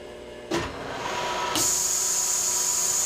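A milling machine motor spins up with a whir, then jumps to a loud, steady high-pitched whine as it starts drilling, close by.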